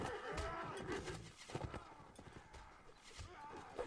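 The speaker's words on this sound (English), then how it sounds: "There's Perth Highlander Zebo Going after multiple horses." Horses galloping in a large line battle in the Mount and Blade Warband video game, a busy mix of hoofbeats and neighing with clashes of combat, fairly quiet overall, with a voice talking over it.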